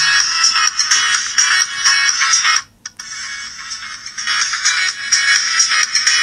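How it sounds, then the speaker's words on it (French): A Bluetooth smartwatch ringing after a find-my-watch command from the phone, a loud, steady electronic ringtone close by that stops abruptly for a moment midway and then resumes. "synchroniser, rechercher la montre, et là, automatiquement, vous avez vu, elle se met en sonnerie"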